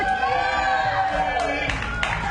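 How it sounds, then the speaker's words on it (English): Crowd at an outdoor plaza party on a morning news broadcast, a dense, loud wash of cheering and whooping voices with bright shouts rising throughout, steady and close with no pauses. "We've got quite the crowd out with Dickies."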